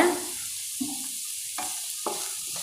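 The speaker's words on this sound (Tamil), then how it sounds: "நல்லா கலந்து விட்டுக்கோங்க." Spoon or spatula stirring wheat flour and onion dosa batter in a bowl, a few soft scraping strokes over a faint background hiss, with no talking.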